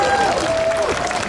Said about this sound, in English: Chief Diaz, let's clap for him.